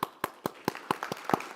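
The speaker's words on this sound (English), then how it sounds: "applause for John, who's also my neighbor" An audience claps after a presenter's talk at the SBMT 2025 event, with sparse, uneven hand claps from a small crowd spaced through the moment.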